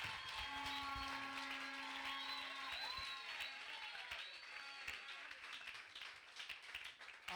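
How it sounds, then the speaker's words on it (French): A church congregation applauds its pastor during a French-language service, a dense spread of clapping with cheers and high voices over it, steady at first and thinning toward the end. "Applaudissons le pasteur."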